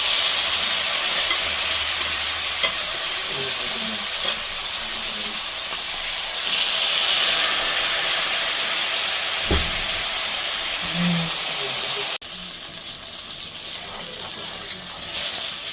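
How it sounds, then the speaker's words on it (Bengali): Shorputi fish fry in a pan of hot oil with a loud, steady, broad hiss that carries on throughout and drops to a quieter sizzle near the end. "মাছটা দুপাশে সুন্দর করে ভেজে নিচ্ছি, ভাজা হয়ে গেছে।"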